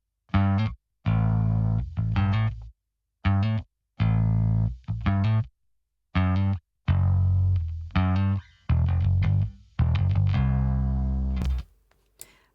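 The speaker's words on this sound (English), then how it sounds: "Followed by a bass distortion." A bass guitar track played through distortion sounds alone as a run of heavy, gritty sustained notes in short phrases separated by silent gaps, ending with a brief fading tail.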